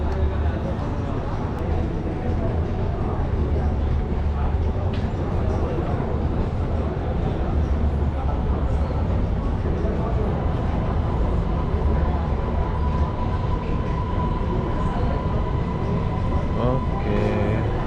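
An underground MRT metro train arrives at a station in Malaysia, a loud steady rumble of wheels and motors filling the platform, with a faint whine rising near the end as people talk over it.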